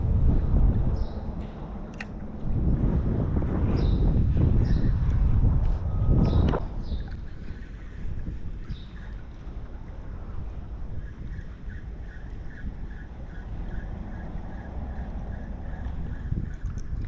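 Strong gusts of wind buffet the microphone in loud rumbling bursts while fishing for snapper, then ease to a steadier low rush with faint clicks and light background noise.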